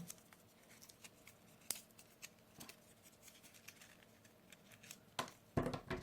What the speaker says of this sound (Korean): 1, 2, 3, 4, 5, 5cm 정도 잘라주세요